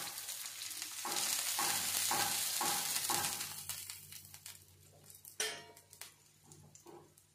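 Thalipeeth, a Marathi flatbread, sizzles in oil on a pan, with soft frying hiss and a series of scraping, stirring strokes and light clinks of a utensil against the pan, close and moderately loud.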